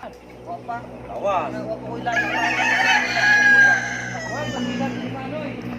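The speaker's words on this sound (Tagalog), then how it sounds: "Ang dami niyang pantari ditong manok" Roosters crow loudly among clucking chickens, with several calls overlapping in a busy, close yard and faint human voices in the background.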